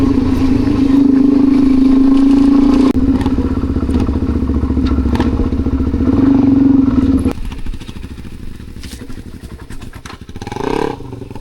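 A dirt bike rides along a trail in Southeast Queensland, its engine droning loud and steady with small rises in pitch, then easing back as the ride continues over bumps and clatter.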